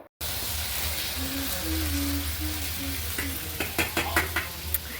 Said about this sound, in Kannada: ಶುಂಠಿ ಬೆಳ್ಳುಳ್ಳಿ ಪೇಸ್ಟ್ ಹಾಕಾದ್ಮೇಲೆ ಟೊಮೊಟೊನ ಹಾಕಿ ನೋಡಿ ಮಿಕ್ಸ್ನ ಮಾಡ್ಕೊತಾ ಇದ್ದಾರೆ